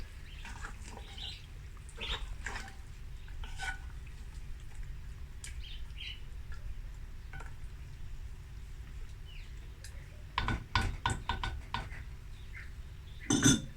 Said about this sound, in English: Give everything a good stir.